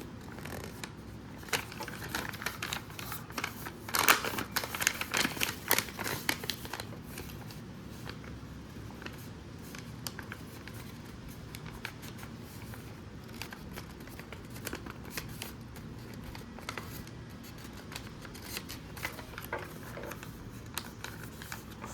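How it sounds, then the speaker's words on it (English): Paper being folded into an origami envelope, close crisp rustles and creasing scrapes, busiest early on and then softer, intermittent handling throughout. "Now fold the edges of the button as before."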